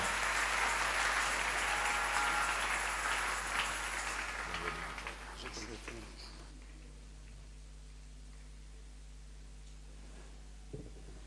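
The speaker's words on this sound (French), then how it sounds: "l'Assemblée m'a accueilli et a applaudi pour la grâce de se revoir ce matin" A church congregation applauds at a French-speaking morning service, loud and dense clapping that fades out after about five seconds into a quiet hall.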